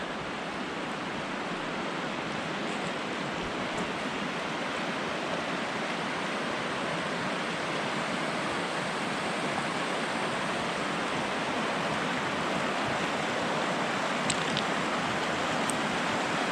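A Carpathian river, the Svicha, rushes steadily and close by, a dense unbroken roar of flowing water that holds an even loudness throughout, with no voices over it.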